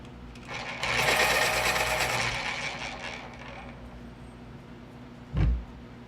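A drawing pencil is sharpened in a sharpener, a close, bright grinding whir lasting about two seconds before it fades, then a single dull thump follows.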